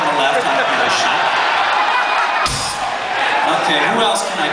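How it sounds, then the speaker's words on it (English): Large concert crowd cheering, whooping and shouting in Hampton, NH, a dense continuous roar of many voices at full loudness, with a brief swell of louder yelling midway. "Give him a round of applause."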